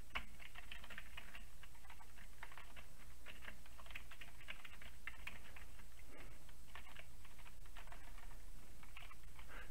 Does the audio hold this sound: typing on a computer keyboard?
yes